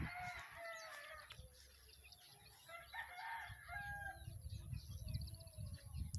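Rhode Island chickens on a farm clucking steadily, with a rooster crowing among them, heard faintly from a short distance against low rustling background noise.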